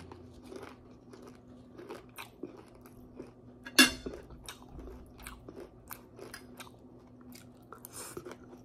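Crunchy bites of crispy fried chicken eaten close to the mic, with repeated chewing and crackling crunches through the stretch and one sharper, louder bite near the middle.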